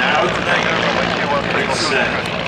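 A Stampe SV4 biplane's propeller engine drones steadily and loudly throughout, with a voice talking over it.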